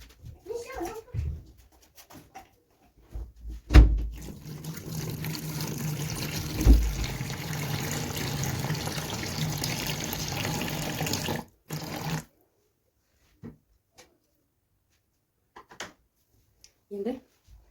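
Water runs and splashes into a basin as the rinse water is changed during hand-washing of white tights, a steady rushing stretch of several seconds in the middle with a few brief knocks and handling sounds before and after.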